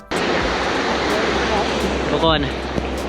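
A waterfall on Iceland's Golden Circle roars close by as a loud, steady, unbroken rush that fills the whole scene, with a person speaking briefly over it.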